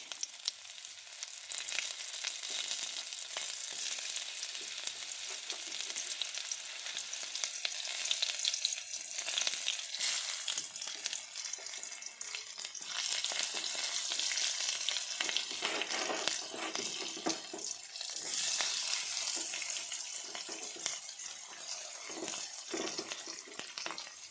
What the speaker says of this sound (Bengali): এই তেলে দিই তেজপাতা, গোটা গরম মশলা,